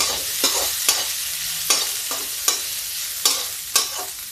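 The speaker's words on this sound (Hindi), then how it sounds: "अब इसमें हम डालते हैं ये मेरा स्प्राउट, इतना ही डालेंगे और इसको चला देते हैं।" Sprouts being stirred in a pan with cumin over low heat for a breakfast dish, giving a steady sizzle broken by about seven sharp scraping strokes of the spoon at uneven intervals, close and clear with no talking.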